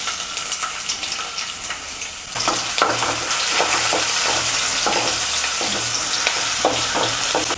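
Oil sizzles as finely chopped onion is stirred in a pan for chickpea gravy; the frying turns louder partway through, with scraping stirs scattered over the steady crackle.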